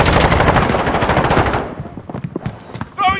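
Rapid automatic bursts from a FAMAS Valorisé (FR 5.56) rifle in the Modern Warfare shooter, loud and dense for about a second and a half, then sparser scattered shots with a brief voice callout at the end.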